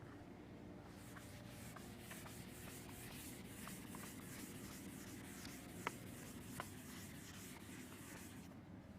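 An equation written out by hand: soft, continuous rubbing and scratching strokes with a few light ticks, close and very quiet, and nobody talks.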